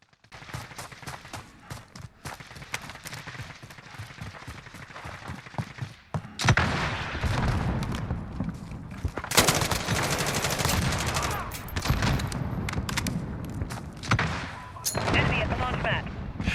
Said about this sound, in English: This is the Gilded Blueprint for the G36 assault rifle.